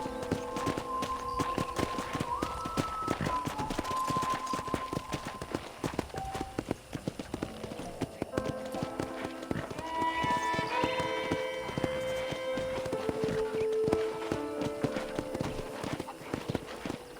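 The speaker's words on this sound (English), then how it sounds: "let's see if you can still ride a horse." Steady rhythmic hoofbeats of a horse clip-clopping along in Red Dead Redemption, accompanied by game music with sustained tones throughout.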